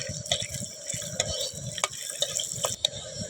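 Something frying in hot oil crackles with rapid irregular pops over a steady sizzle, while a spoon stirs and clicks against the pan, close up.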